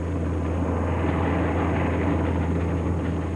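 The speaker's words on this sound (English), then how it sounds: "The Spitfire simply flies out of reach." A single-engine Spitfire fighter plane in flight, a loud, steady propeller-engine drone holding at constant level throughout with no talk.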